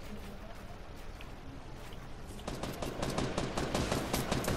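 Rapid gunfire from Fortnite Battle Royale starts partway through, a dense run of sharp repeated shots that keeps going to the end over a steady game background.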